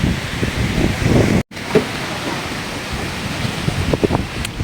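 Surf breaking along the beach front of Boracay, a loud, continuous rush of waves mixed with heavy wind buffeting the microphone, with one brief dropout.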